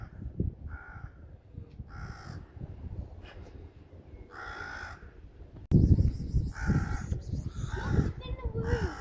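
Crows cawing harshly and repeatedly while attacking a cat outdoors, several loud, rasping calls in bursts, with a person talking over them and the calls growing louder and denser toward the end.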